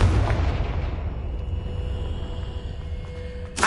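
A Confringo fire spell explodes in the Hogwarts video game, a loud booming blast at the start that rumbles and decays over several seconds, with a sharp burst returning at the very end.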